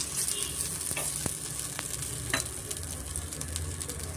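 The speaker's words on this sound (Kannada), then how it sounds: "ಸ್ವಲ್ಪ ಚೆನ್ನಾಗಿ ಫ್ರೈ ಮಾಡ್ಕೊಬೇಕಾಗುತ್ತೆ ನಾವು" Raw banana and ridge gourd frying in oil on a flat tawa, a steady close sizzle with occasional sharper crackles and pops throughout, no voices.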